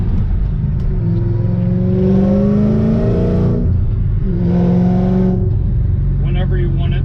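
A 2006 Saleen Extreme sports car accelerating hard, its engine note rising in two long pulls with a brief dip between, loud and close, while someone talks over it.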